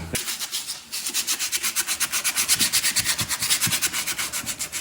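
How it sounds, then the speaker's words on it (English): Sandpaper rubs back and forth to sand paw prints off a surface, a quick steady rhythm of close, scratchy strokes with no voices. "So we're gonna sand those off after we get the other one on here"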